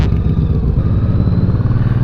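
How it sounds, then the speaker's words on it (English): A loud Honda Shadow motorcycle runs close by with a steady, rough engine rumble and some clatter, continuous for the whole stretch with no talk over it. "this bike is so loud"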